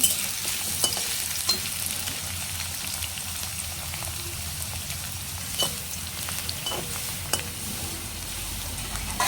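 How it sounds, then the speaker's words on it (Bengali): Potatoes fry in a pan for a fish curry, a continuous soft sizzle with occasional stirring scrapes and pops, close and fairly quiet, with no talking. "আলুগুলো একটু ভেজে নেব।"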